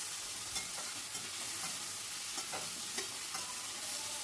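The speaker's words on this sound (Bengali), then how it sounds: "আবারও ঢাকা তুলে একটু নাড়াচাড়া করে নিচ্ছি।" Spiced masala being stirred in a pan for a Bengali curry, with a steady, close sizzle of frying and a series of soft scraping stirs, no voices.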